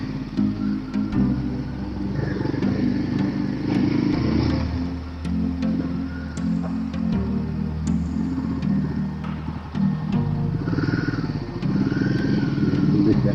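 Royal Enfield Himalayan motorcycles labour uphill on Acchalu Betta, their engines thumping and revving steadily, close and loud, with intermittent clattering and faint voices beneath the engine noise.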